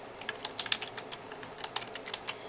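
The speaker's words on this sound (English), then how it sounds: "So you're going to start typing right here." Someone types on a computer keyboard while filling in a survey report form, producing quiet, close, irregular clicks in short bursts with brief pauses between them.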